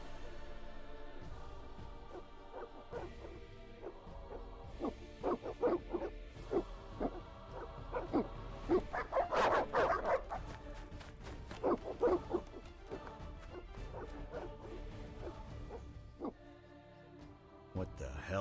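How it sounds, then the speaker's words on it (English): Evil dogs in The Witcher video game bark and yelp in bursts amid game ambience, louder in the middle, with spoken game dialogue mixed in. "They're evil dogs."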